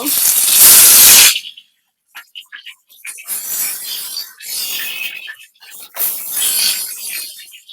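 Vata fish hits hot oil in a wok with a loud, close burst of hissing sizzle that fades into intermittent spitting and crackling bursts of frying.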